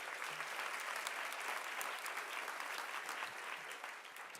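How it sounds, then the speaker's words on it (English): Sustained audience applause at the 2023 Sherry Lansing Leadership Award ceremony honoring Adele, a dense steady wash of many hands clapping at even volume throughout, with no talk over it. "give her another round of applause"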